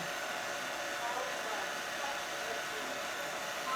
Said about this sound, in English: We're gonna use the hair dryer.